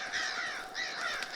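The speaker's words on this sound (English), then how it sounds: "Some crows." Crows caw repeatedly in the dark woods of the horror game Darkwood, with two clear bursts of harsh calls that sound fairly close and have no talk over them.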